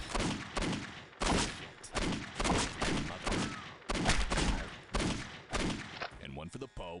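Repeated video game gunfire in dense bursts, loud and close, with rapid strings of shots separated by brief gaps over several seconds, ending in a warbling electronic tail.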